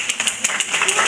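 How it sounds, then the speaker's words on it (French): Short burst of audience clapping at a neighbourhood meal gathering for a child stepping up as a magician, uneven individual claps with talk in the room. "Aymen, on peut l'applaudir très fort"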